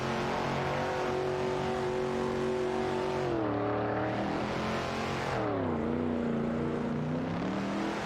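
Engines of a Ferrari 250 GTO and an Alfa Romeo Giulietta race car in a racing video game, a steady high-pitched whine that dips and climbs again through gear changes and throttle lifts.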